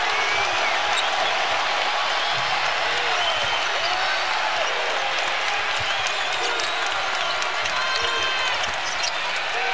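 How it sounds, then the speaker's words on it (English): Basketball arena crowd at a Kentucky versus Mississippi State game, a loud sustained roar of cheering and applause filling the space, steady throughout with faint squeaks and thuds from the court. "And the crowd again on its feet."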